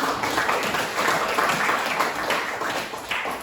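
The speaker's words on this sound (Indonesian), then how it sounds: "tepuk tangan teman-teman" Schoolchildren in a classroom clap together in a quick, fairly rhythmic burst, close and lively, for a few seconds.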